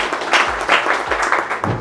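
An audience in a repair training classroom breaks into a short burst of brisk clapping, a few irregular claps standing out, with no talk over it.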